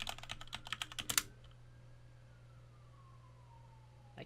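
A password is typed on a computer keyboard as about a dozen quick, close key clicks over a second, followed by a faint siren wailing in the distance and gradually fading.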